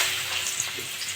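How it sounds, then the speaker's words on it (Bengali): Potato pieces frying in hot mustard oil in a heated kadai for a cauliflower-potato dish give a steady, close, loud sizzling hiss that carries on without a break. "তেলটা গরম হয়ে গেছে, আলুগুলো ভেজে নেব।"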